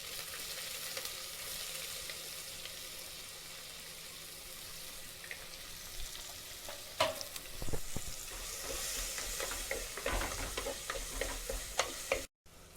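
Onions and curry leaves frying in a pan for a vallarai keerai kootu, a soft, steady hiss that grows busier midway with clattering stirring and scraping, then cuts off briefly near the end.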